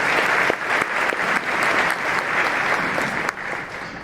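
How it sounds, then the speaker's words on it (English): Audience applause fills a county State of the County address hall, steady and sustained for about four seconds with dense, even clapping and no voices over it. "Let's please give them a round of applause."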